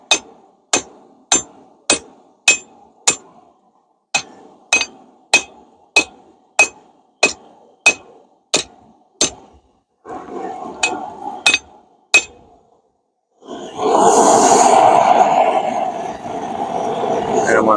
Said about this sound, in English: I'll take the ball peen to it this time.